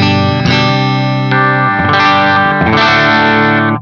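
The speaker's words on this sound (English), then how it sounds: "It's like a slight overdrive happening." Electric guitar through a G-Lab Rebel Series pedal set for mild overdrive, a few strummed sustained chords changing every second or so, full and loud with slight grit and no talking.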